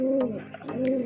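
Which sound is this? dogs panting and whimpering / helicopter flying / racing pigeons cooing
racing pigeons cooing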